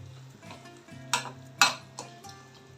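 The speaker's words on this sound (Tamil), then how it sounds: "இப்போ நம்ம இதில் சிக்கனை சேர்த்துருவோம்" Pieces of chicken dropped into a pot of spiced masala with yogurt and chili powder for Thalassery chicken biryani, then stirred with a utensil, giving two sharp scrapes over a low steady sizzle and soft clinks.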